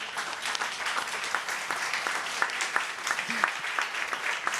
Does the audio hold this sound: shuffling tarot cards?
no